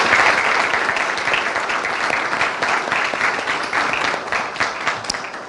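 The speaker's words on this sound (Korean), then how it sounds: "우리 마음을 모아서 박수로 격려하겠습니다." Sustained applause from an audience at a freshman chapel service at Hanyang University. Dense, continuous clapping fills the whole stretch at steady loudness and tapers slightly at the end.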